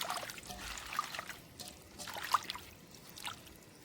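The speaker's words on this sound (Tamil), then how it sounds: "வடிவாக கழுவி தண்ணியை நான் நல்ல வடிவாக வடிச்சு தான் எடுக்க போகிறேன்" Water trickles and drips in brief uneven bursts from freshly washed leafy greens set to drain for a village-style greens puttu, a faint, close wet patter with no talk.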